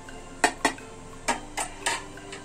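A spoon clinks against a bowl while spices are stirred into cooked chana dal for Gujarati samosa filling: six sharp metallic taps in two clusters, close and distinct over a quiet background.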